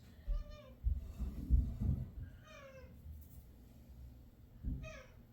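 A pet cat meows indoors several times, short rising-and-falling calls spaced a second or two apart, fairly close but soft against a quiet room with faint background rustle.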